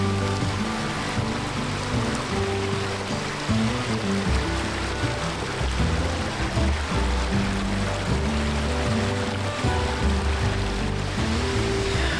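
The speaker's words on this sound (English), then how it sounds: "So we'll have the sound of the water going to bed tonight." A creek flows steadily beside an overland campsite in Idaho, a close, continuous rushing burble of water with no pauses and no voices.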